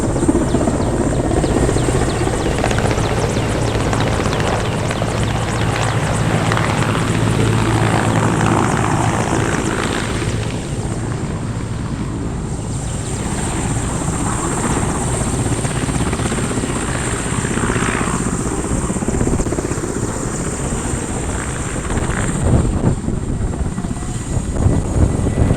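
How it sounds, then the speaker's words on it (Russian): A helicopter lifts off from a remote village, its rotor and engine roar loud and steady throughout, with broadband blade chop and turbine whine close by and no talking. "Вертолет взлетает, он улетает, но обещает вернуться."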